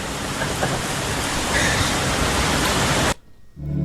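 Steady, dense rain pours down outdoors as a loud continuous hiss that fills the scene, then cuts out abruptly near the end, leaving a brief low rumble.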